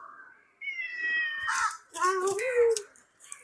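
A cat meows repeatedly in a close, fairly loud series of rising and falling calls, with a brief pause between them and a short click at the end, in a home where caught fish are being cleaned.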